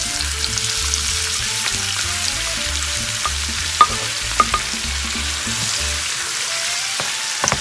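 Onion sizzling in hot 100% pure olive oil in a pan, a loud continuous close crackle with a low hum beneath and a few sharp utensil clicks, no voices.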